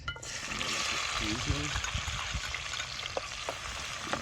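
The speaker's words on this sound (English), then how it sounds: "Nice little stir fry going on here" Callaloo and saltfish stir-frying in hot oil for a Jamaican breakfast, a steady close sizzle with soft stirring and scraping knocks, and a few brief vocal sounds near the start.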